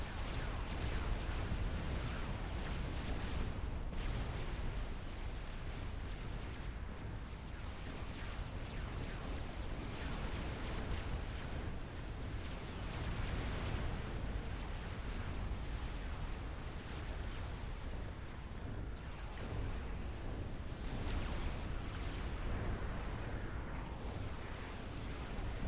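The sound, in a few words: artillery fire and explosions from a video game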